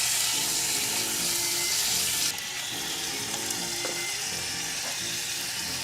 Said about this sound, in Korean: 달달 볶아주세요.